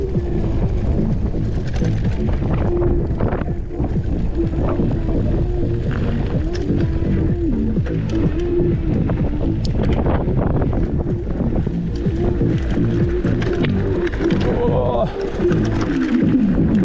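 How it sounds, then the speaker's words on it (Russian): Strong wind buffets the microphone in a steady, rumbling roar on a September 2023 road trip in Crimea. The gusts are loud and continuous throughout, and bits of talk and faint motion sounds come through beneath. "Да, тут ветруганище."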